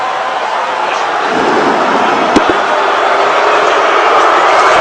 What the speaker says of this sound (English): The crowd's not happy.